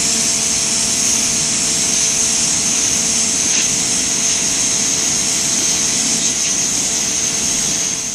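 A Sun Joe electric pressure washer sprays through a narrow nozzle, a loud, steady, close hiss and motor whine that continues without a break.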